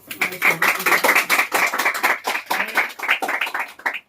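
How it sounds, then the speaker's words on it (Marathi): An audience in a college hall claps for a student, giving a brisk, dense round of applause that holds steady for about four seconds before thinning out at the end. "आपण एकदा त्याचा टाळ्या वाजवून"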